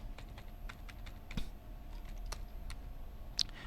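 Close, quiet keystrokes on a computer keyboard during data entry in Tally accounting software, a steady patter of light clicks with a few firmer presses of the Enter key, no talking.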